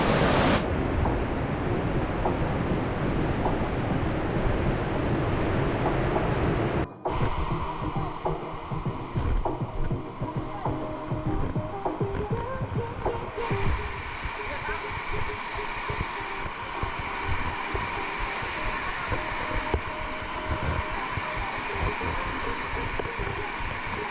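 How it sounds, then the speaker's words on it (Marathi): The Shidheshwar waterfall near Alibag in the Sahyadri hills, a 400-foot drop, pours down in a constant loud broadband roar that fills the whole stretch, with wind buffeting and a brief dropout partway through. "हाच वॉटरफॉल हा पाणी इथून खाली जातं"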